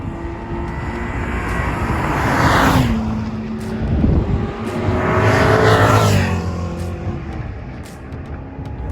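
A supercharged Mini race car on the Snetterton circuit during a track day, its engine roaring and revving loudly as it passes, fading, then surging again with a second loud pass; no talking.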